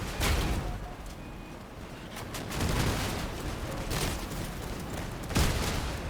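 Rocket fire and explosions in a Crossout vehicle battle come as repeated heavy booms and blasts over constant rumbling combat noise, with several strong hits spread across the stretch.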